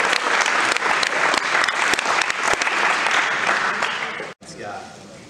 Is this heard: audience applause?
yes